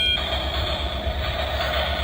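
A musical toy bullet train, a blue subway-style model, gives off a steady electronic hum with a faint high tone above a low pulsing rumble, continuous and fairly quiet.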